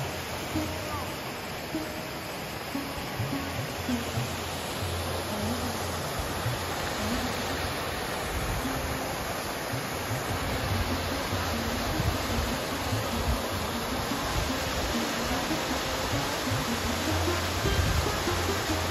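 Water rushing steadily down Usri waterfall near Giridih, a dense, unbroken roar that fills the whole scene at an even, close level.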